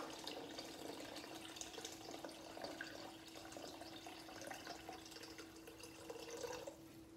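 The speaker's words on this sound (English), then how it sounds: "we're now going to add some water" A steady stream of about 1.1 litres of cold water pours and splashes into a Thermomix pot for several seconds, with a faint hum underneath.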